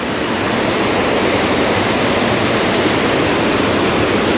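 Baby Falls on Bald River near Tellico Plains, Tennessee, pours with a heavy flow, a loud, steady, broadband roar of falling water heard close up and alone, unbroken throughout.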